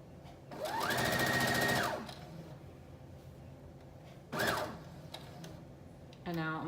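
Home sewing machine stitching a wrap dress from a Simplicity pattern: a fast, steady whirring run of about a second and a half, then a shorter burst, with a voice talking quietly between them.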